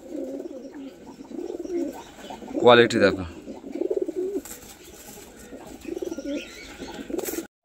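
Kalanka pigeons, a ready breeding pair of male and female, give a short, fairly loud cooing call midway, with people talking over and around it throughout.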